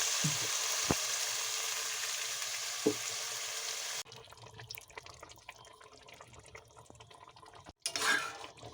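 Yogurt going into chicken sizzling in a pan over a very low flame, a loud hiss that drops abruptly to a quiet simmer, with a few clinks and a brief watery splash near the end.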